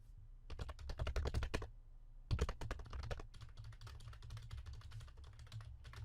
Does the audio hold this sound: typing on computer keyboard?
yes